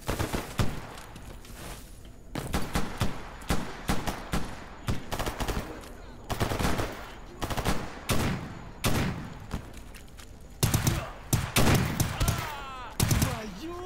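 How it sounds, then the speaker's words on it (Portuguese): Bursts of rapid gunfire and single heavy shots from weapons in the shooter game Stalker Gamma during a swamp firefight, loud and repeated with short gaps between volleys and brief voices in between. "Olha o som da arma atirando nesse jogo"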